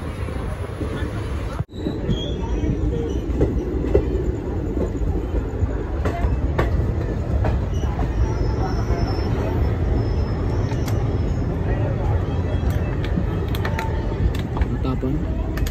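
Express train 22156 pulls into Kurduvadi Junction, heard from inside a reserved coach: a continuous loud rumble and rattle of the carriage, with scattered clanks and squeals and faint passenger chatter in the background.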